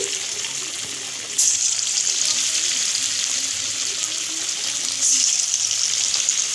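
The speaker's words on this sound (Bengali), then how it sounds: "এইভাবে গোল গোল করে সব আমি ভেজে নিই" Cauliflower pakora balls sizzle in hot oil, a steady close frying hiss that jumps louder twice as more batter drops into the pan.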